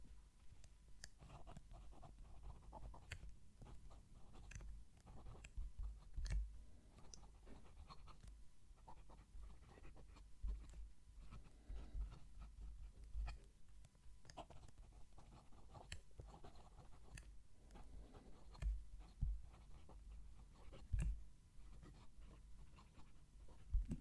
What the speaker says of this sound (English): It's like it's singing to me as I'm writing.